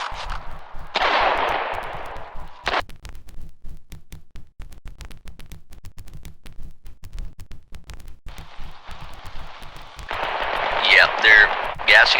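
Howitzer shells pound a safe house in a war video game, with bursts of rapid gunfire and rumbling impacts coming in clusters, loud and near, while voices talk over the combat.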